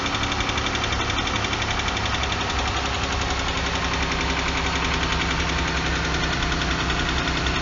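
A 2012 Jeep Grand Cherokee's 3.6-liter Pentastar V6 with variable valve timing idles close up. A rapid, steady mechanical ticking runs over the engine's continuous rumble.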